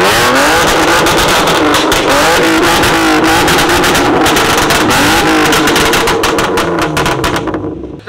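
Loud, close BMW E36 engine revving hard through a straight-piped dual exhaust, sustained snarling revs with crackling pops throughout, cutting off abruptly near the end.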